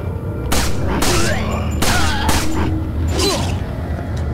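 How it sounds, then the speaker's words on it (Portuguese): Rapid bursts of gunfire from a weapon in Resident Evil 4 on PS2, several loud, close shots in quick clusters over dense game noise. "Barulhinho da arma é bem louco, né?"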